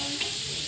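Bread for a sandwich sizzles in a frying pan, a short, steady, close crackle of frying with a faint stirring scrape and no talking.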